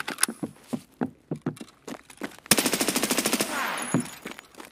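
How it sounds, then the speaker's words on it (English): Gunfire in the shooter game Escape From Tarkov on the Labs map: scattered single shots, then a rapid automatic burst with a lingering echo, fairly faint in the mix. "I also heard someone shooting behind me."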